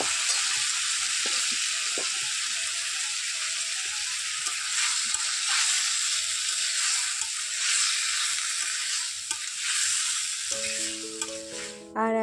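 Fried young jackfruit pieces tipped into a pan of cooked-down spice masala set off a loud, steady sizzle that runs unbroken throughout, with a short tonal chime near the end.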